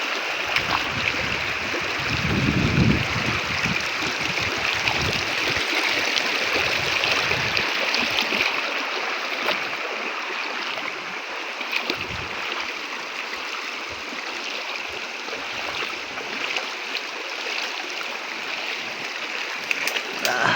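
Steady rushing of flowing river water, a continuous broadband wash that stays even throughout, with a faint voice briefly heard near the start.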